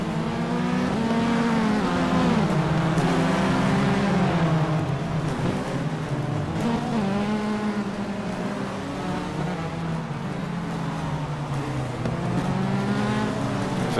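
A grid of Formula 3 race cars in a racing video game at Interlagos hums past in a steady stream, with overlapping engine drones rising and falling in pitch as each car passes, loud and continuous throughout.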